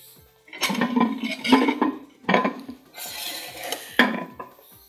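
Tomatoes dropped into a cooking pan for a white eggplant tray bake, with several clattering metallic knocks of utensils against the pan and wet sizzling bursts, separated by short pauses.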